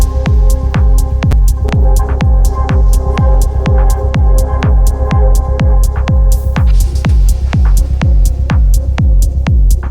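Layered ambient synth atmosphere built from randomized effects, with a loud, steady, evenly pulsing throb under sustained tonal drones, repeating roughly every half second without letup.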